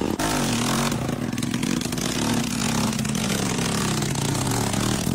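Close, loud motorcycle engine straining as the bike climbs a steep hill road, a steady revving drone with rattling and scraping clatter, no voices.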